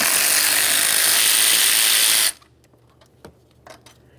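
A ratchet works on 12mm bolts and nuts holding the rear valve cover of a 2007-2013 Acura MDX 3.7L V6, starting with a loud continuous whirring burst for about two seconds, then faint scattered clicks and clinks.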